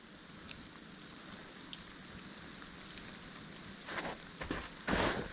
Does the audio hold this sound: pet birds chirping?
no